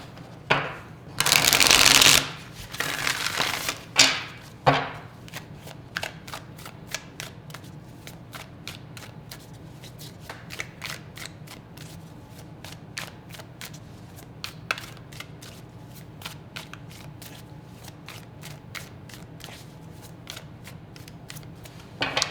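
A deck of tarot cards is riffled and shuffled loudly at the start, then quieter card handling continues as a long run of soft, rapid clicks and flicks, close to the microphone with no talking.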